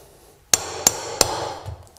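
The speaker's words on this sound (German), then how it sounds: "Und dann könnt ihr hier mit einem Hammer ganz vorsichtig die komplette Bahn auf der anderen Seite rüberschieben." Three sharp hammer taps at even spacing drive a laminate flooring board sideways into place, each knock loud and close with a short ringing tail, followed by faint handling noise.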